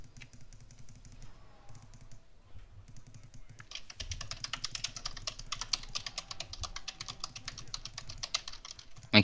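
A computer keyboard clatters with fast, steady typing that picks up after a few quiet seconds and carries on densely to the end, close by and without talk.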